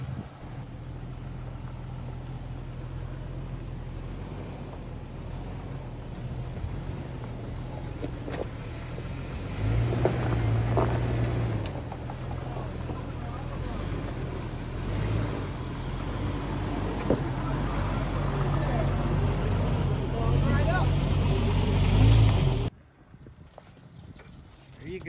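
A stick-shift daily driver car with stock gears climbing a rocky off-road trail, its engine droning steadily and rising under load, with the sound cutting off abruptly near the end.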